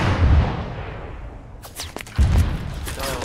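A rocket launcher fires at a tank in a video game, with a loud low boom and crackling blast near the start, then a second heavy blast about two seconds in amid scattered battlefield noise.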